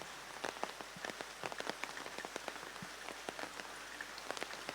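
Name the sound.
heavy rain falling in Kannur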